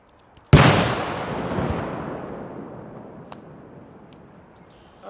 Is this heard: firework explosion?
yes